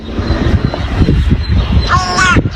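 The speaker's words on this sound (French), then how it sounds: "Avec tout simplement un corbeau qui dit Allah." A crow's harsh, nasal caw rings out twice near the end, loud and close, over a steady background rumble of voices and noise.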